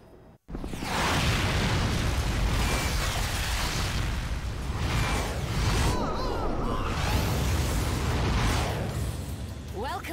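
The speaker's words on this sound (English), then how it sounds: "there's missiles" Missiles exploding in the action video game Bayonetta: dense, loud, continuous bursts and whooshing blasts roll on for about ten seconds after a brief silent start, with voices talking over the din.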